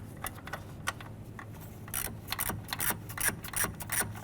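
A ratchet with a deep socket and extension works bolts on a 1993-1997 Ford Ranger, giving rapid clicking bursts close up that grow louder and busier in the second half.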